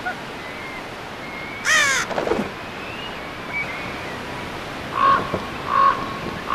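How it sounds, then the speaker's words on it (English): Ravens near a sea eagle nest give harsh croaking calls over faint surf, one sharp call early then a pair of shorter caws later, fairly close and spaced apart against a quiet background. "Ravens often buzz the nest looking for a free meal."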